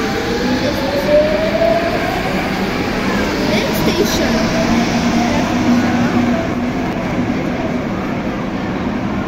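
Lyon metro line B train running between Saxe-Gambetta and Charpennes, a steady loud rumble of wheels and motors with rising whine tones, heard from on board with faint chatter from passengers.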